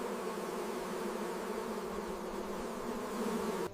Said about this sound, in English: from the body, a swarm of bees appeared once again